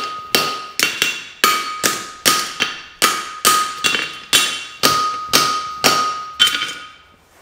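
Hammer blows on a straight steel bar while bumping a fullered roll toe, about fifteen sharp ringing metallic strikes in a steady rhythm, close and loud, each decaying quickly before the next.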